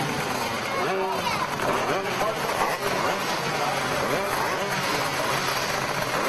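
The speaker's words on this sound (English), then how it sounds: "We're ready to do our standing start here with our shifters." Shifter racing kart engines idle and rev together on the grid before a standing start to a heat race, a dense continuous mechanical drone with no break.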